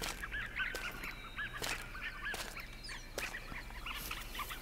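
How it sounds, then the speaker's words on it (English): Ducks in the hunting game theHunter: Call of the Wild give repeated honking, quacking calls in a dense, overlapping chorus, joined by a few sharp louder pops and clicks against a steady low background. "you can hear these ducks a mile away, can't you? They are so loud."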